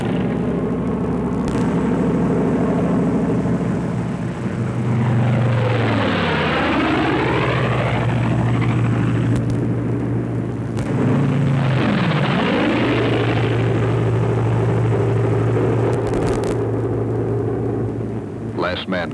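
P-47 Thunderbolt fighter planes peeling off one after another at two-second intervals on a World War II bombing run, loud propeller engines roaring past in repeated swelling and falling passes, a narrator's voice running over them.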